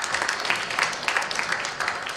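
An audience applauds, a dense, steady wash of many hands clapping throughout, fairly loud and continuous.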